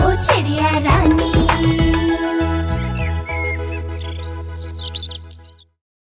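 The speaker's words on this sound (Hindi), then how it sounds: "चिड़िया रानी, ओ चिड़िया रानी" Bright chirping bird calls, like a sparrow in a Hindi children's rhyme, ring out as lively tweets and whistles over a steady musical backing that stops abruptly near the end.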